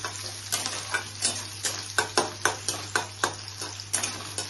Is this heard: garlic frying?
yes